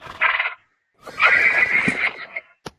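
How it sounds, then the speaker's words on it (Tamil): A horse in a cowboy video game neighs twice, first a short whinny and then a longer, louder one, both close and clear, followed by a brief sharp knock. "ஓகே, குதிரை"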